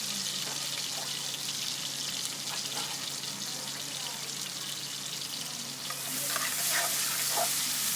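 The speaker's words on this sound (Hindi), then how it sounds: "प्याज को थोड़ा सा लाइटली ब्राउन करेंगे" Onions frying in oil until lightly browned for a dhaba-style mash daal, a steady close sizzle with occasional soft stirring, swelling louder toward the end.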